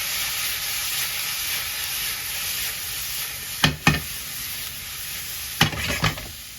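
Broccoli sizzles steadily as it is stir-fried in a pan with peppers for a shrimp and vegetable rice dish, a continuous close frying hiss broken by a few sharp utensil clinks near the end.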